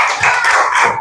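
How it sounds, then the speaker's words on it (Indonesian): Schoolchildren in a classroom clap for a classmate, a brief burst of quick, close handclaps lasting about a second. "Kasih tepuk tangan untuk temannya"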